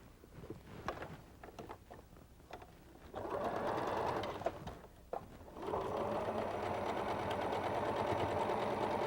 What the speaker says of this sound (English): we want to sew with the block on top so we can see that point